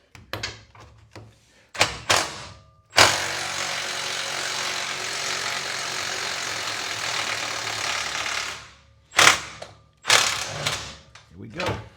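Power ratchet loosening the rear bolt on a 1955 Chevy front control arm, a loud continuous whirring burst of about five seconds, bracketed by short metallic clanks and knocks before and after.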